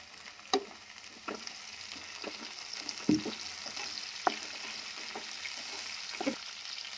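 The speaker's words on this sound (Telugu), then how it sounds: "ఇదంతా బాగా ఫ్రై చేసుకోవాలి" Tomato and onion frying with a sprig of curry leaves in a pan for pakoda curry, a steady soft sizzle broken by several sharp scraping stirs of a spatula.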